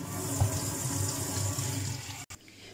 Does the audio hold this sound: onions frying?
no